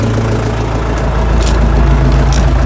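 A low, steady tractor engine rumble idles close by, even and unbroken throughout, with a deep throbbing drone.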